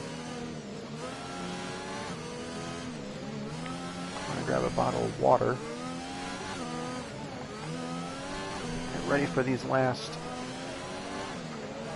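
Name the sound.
race cars slowing through Ascari at Monza, sim racing game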